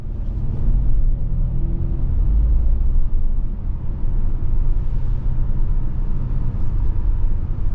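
A 2024 Acura RDX Tech AWD is driven, heard from inside as a steady, loud low road and engine rumble that swells slightly early on, then settles into an even cruising drone.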